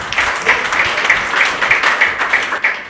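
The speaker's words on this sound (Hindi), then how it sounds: "इनके लिए ज़ोरदार तालियाँ" An audience at a comedy show applauds for two performers, steady rhythmic clapping at about three beats per second, close and fairly loud.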